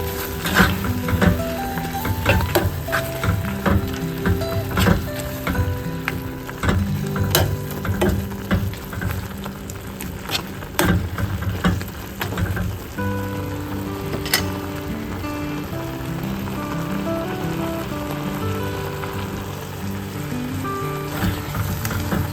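Okra pachadi (vendakka pachadi) simmers in a pan, a continuous bubbling sizzle with scattered pops and clatters, fairly steady and close, with no talking.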